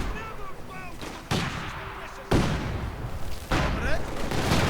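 Bursts of MG-42 machine gun fire and other gunfire in a World War II strategy video game battle, coming in several loud, abrupt volleys with sustained rattling between them and background battle noise throughout.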